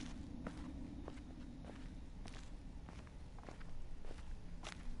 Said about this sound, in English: all I've heard so far has just been my footsteps